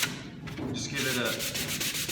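Fine sandpaper rubbed by hand over a wooden sliding lid box, giving a steady, close scratchy rasp with quick back-and-forth strokes that run on without a break.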